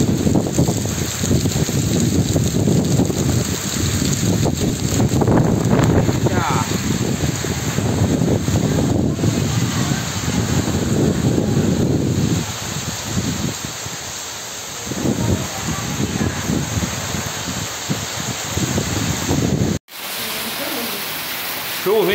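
Loud, constant roar of wind and heavy rain buffeting the microphone in a storm in northeastern Brazil, easing slightly partway through before an abrupt cut.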